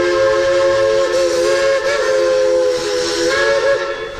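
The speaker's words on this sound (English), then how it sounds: "we have a very loud train" A loud, sustained steam whistle from a small theme park train at Dollywood blows steadily for several seconds with a breathy hiss beneath it, close and piercing.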